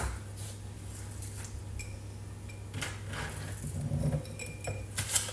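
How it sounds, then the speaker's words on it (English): Pieces of organic onion are dropped into a glass jar, giving faint, scattered clinks and soft knocks of the glass against a quiet background hum. "Put all of the good onions, the organic onion, inside of your jar."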